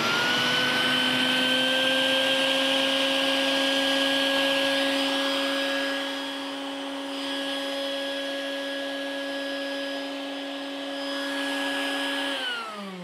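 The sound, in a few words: vacuum pump shrink wrapping a kid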